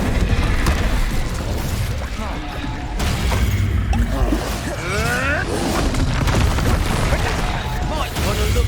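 Incendio fire spells and other combat magic go off in Hogwarts Legacy, a dense clash of bursts, booms and crackling effects, with swells and a sharp hit near the three-second mark, mixed with game voices.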